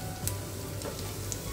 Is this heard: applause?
no